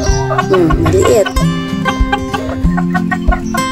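A Chinese Silkie hen clucks in short bursts, loud and near, over a dense, steady tonal background.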